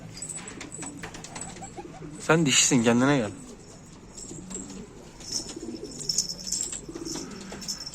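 A pet pigeon cooing, one loud rolling coo rising and falling close by near the middle, with someone talking around it and faint bird chirps in the background.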